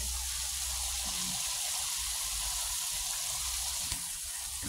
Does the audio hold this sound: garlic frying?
yes